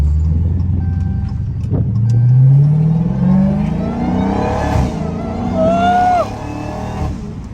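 A Dodge SRT Hellcat drives through a city in the early morning, its engine loud and close, droning and then revving with rising pitch as it accelerates.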